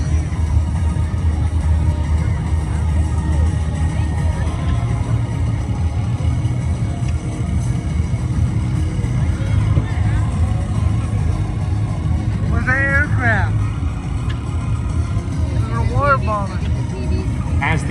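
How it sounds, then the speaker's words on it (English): An aircraft with a pair of Wright R1820 radial engines at an air show, a steady loud low drone that holds throughout, with brief faint chirps near the end. "this aircraft still retains the pair of Wright R1820 radial engines used when it flew in military service"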